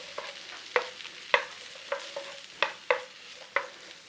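Onions frying in butter in a hot pan, with a steady soft sizzle broken by about eight sharp scraping stirs of a utensil against the pan, close and loud.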